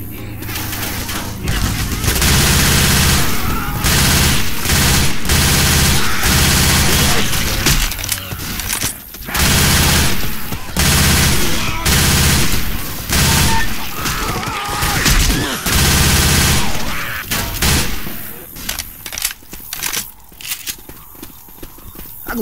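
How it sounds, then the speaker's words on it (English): A machine gun fires in Left 4 Dead 2 on the Parish campaign at Expert level, with dense rapid bursts for most of the stretch that thin into sparse shots near the end, loud and close, with voices talking at times. "Going with the machine gun"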